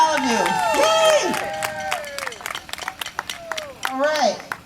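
A round of applause for the board members of the Chandler Park Conservancy in Detroit: scattered clapping and a few cheers from a small gathering, mixed with talking and excited voices, loud at first, then thinning into sparse claps.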